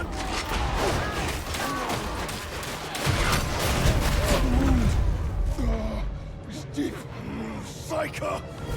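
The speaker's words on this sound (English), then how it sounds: "Shotgun" Shotgun blasts and combat noise in the Warhammer 40k Darktide video game, heavy bursts of gunfire and clattering mechanisms during the first half that thin out into sporadic hits and creaks, with voices talking over the action.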